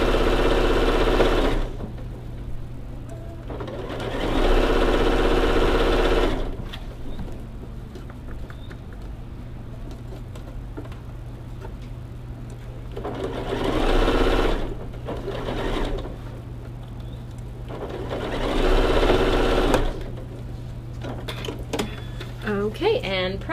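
A sewing machine stitches a quilt seam for a poinsettia holiday mini quilt in bursts of steady whirring, three or four runs separated by pauses, with a low hum underneath and some talk between runs.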